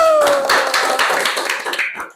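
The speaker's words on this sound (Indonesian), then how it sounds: "Oke, tepuk tangan dulu." Several people clap together in quick, dense bursts, loud and close, fading out after about two seconds.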